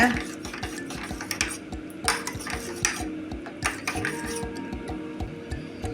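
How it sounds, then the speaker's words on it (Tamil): A spoon stirs cornflour into water briskly in a bowl, clinking against the sides in quick repeated strokes. "2 ஸ்பூன் கார்ன்ஃப்ளவர் மாவு கலக்கி கட்டி இல்லாமல் கரைச்சிக்கங்க"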